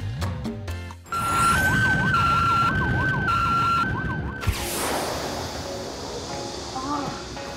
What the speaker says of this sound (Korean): 사이렌 소리가 하나가 있는 게 아니라 다 틀리네요.